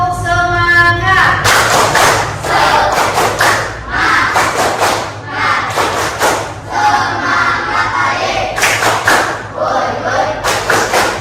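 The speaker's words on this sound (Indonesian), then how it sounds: "Coba tepuk semangat." A classroom of students performs a rhythmic spirit clap together, loud patterned bursts of clapping mixed with shouted chants, after a brief teacher's voice at the start.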